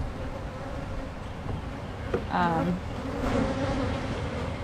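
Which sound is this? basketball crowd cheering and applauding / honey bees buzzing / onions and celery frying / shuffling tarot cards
honey bees buzzing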